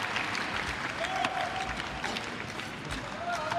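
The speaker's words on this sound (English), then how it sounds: "Big round of applause from his teammates" Teammates and spectators clap at a Paralympic boccia gold medal match, a steady wash of applause running throughout with faint voices mixed in.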